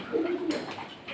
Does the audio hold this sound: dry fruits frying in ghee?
no